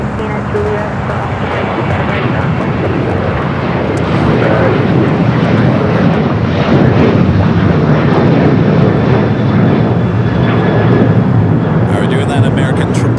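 A jet airliner at LAX roars on takeoff from the south side, a broad loud engine rumble that swells midway and holds steady, with no voices over it.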